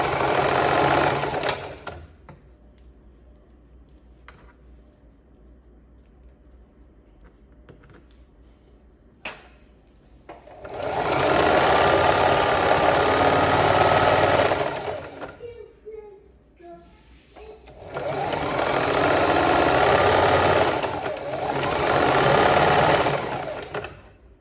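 A sewing machine stitches an oversized shirt into a dress in two loud, close bursts of fast rhythmic whirring, separated by quieter pauses with faint handling clicks and fabric rustle.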